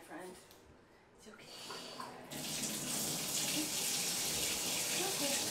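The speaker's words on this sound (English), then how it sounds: "Water is going back on, my friend." A tap is turned back on while dogs are bathed, starting softly and then rushing as a loud, steady broadband stream for the last few seconds.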